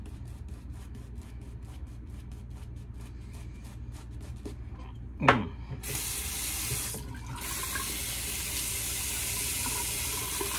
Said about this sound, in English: We're just using the cold water right out of the tap today.